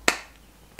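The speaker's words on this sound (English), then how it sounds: "I'm snapping my fingers. This is called snapping my fingers." Two crisp finger snaps, close and sharp, spaced about seven-tenths of a second apart in steady time with near silence between.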